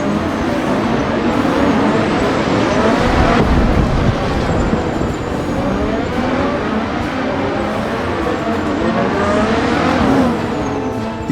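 Formula 1 race cars at the 2024 Bahrain Grand Prix, a loud continuous high engine whine rising and falling through gear changes as cars pass, with no voices.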